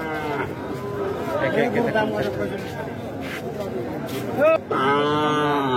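Small local bulls at the Boda cattle market in Panchagarh, with a deep, drawn-out moo rising clearly near the end over steady nearby talk and crowd chatter.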